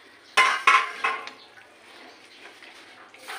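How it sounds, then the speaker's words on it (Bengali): Hot water poured slowly into a pan of chicken tikka masala, opening with a few sharp clinks of a plate against the pan, then a soft, low trickle fading to quiet. No voices. "এবার একটু গরম জল দিচ্ছি আস্তে আস্তে।"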